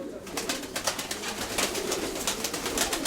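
A pigeon held in someone's hands gives soft, close cooing calls in a steady pulsing series over faint background hiss.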